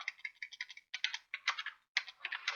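Quick clattering keystrokes on a computer keyboard, rapid bursts of close, light clicks broken by brief pauses, quiet and alone.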